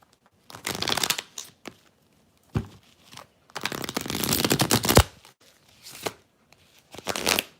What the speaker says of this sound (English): My cards won't even shuffle.